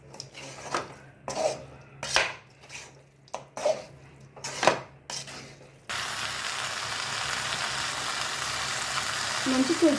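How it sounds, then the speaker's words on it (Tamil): Chicken sautéing in a pan for a pepper chicken dish, a steady, loud sizzle that fills the second half after a stretch of talking with stirring and utensil sounds. "சிக்கன் போட்டு நல்லா வதக்கணும்."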